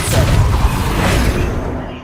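A Depulso force spell going off in Hogwarts Legacy, a loud, continuous booming whoosh with rumbling low impacts that holds steady and then fades slightly.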